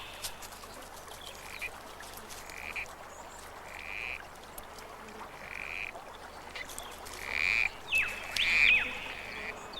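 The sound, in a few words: male corroboree frog calling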